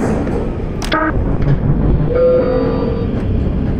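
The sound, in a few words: train moving in Black Mesa video game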